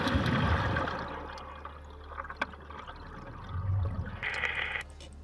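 Divers splash into the sea at the start of a dangerous dive. The churning water is loud at first, then washes and bubbles more softly, with a later surge of watery rushing and a brief radio-like tone near the end.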